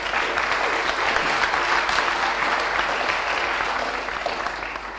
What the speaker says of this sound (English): a round of applause for everyone that pitched